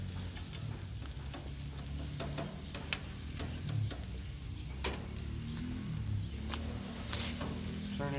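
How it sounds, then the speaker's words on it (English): Meat sears on a grill with a faint, steady sizzle and scattered pops, with a few quiet clicks of turning pieces over. "Get a nice little sear on there."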